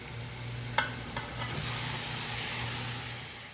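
Cut tomatoes tipped into ginger and garlic frying in hot oil, then stirred: a couple of clattering spoon scrapes, followed by a steady close sizzle that carries on to the end, with no talking.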